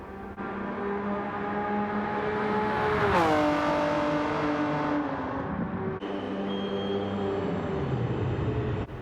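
Race car engine in Gran Turismo 7 during a pit stop on lap 2, running a lower-horsepower tune: a steady loud engine drone with harmonics that rise and then sweep downward, followed by a lower, changing engine tone.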